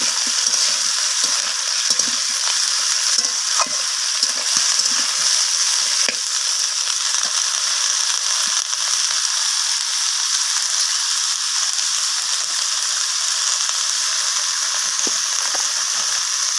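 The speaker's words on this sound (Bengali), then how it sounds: "মাছগুলোকে সব কিছুর সাথে ভাজা করে নিচ্ছি" Fish fries in a pan together with other ingredients, making a loud, steady sizzle that carries on without pause, with faint crackles and scrapes of stirring underneath.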